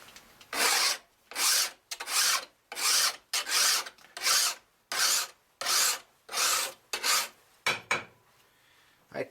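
A hand file rasps along the edge of a rusty machete in about ten steady, even strokes with short pauses between them. Each stroke is close and clear, with no talking.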